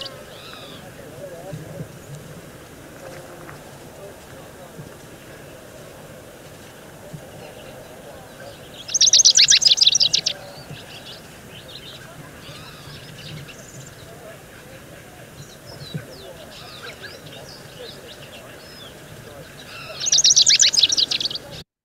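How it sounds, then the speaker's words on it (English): A rufous-crowned sparrow gives two short bursts of song outdoors in arid scrubland, about eleven seconds apart, each lasting roughly a second and fairly clear above quiet background noise. "Here is a Rufous crowned sparrow."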